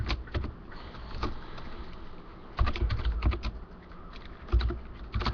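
Fingers typing a license code on a computer keyboard, close up: quick clusters of light keystrokes come in short runs with brief pauses between them.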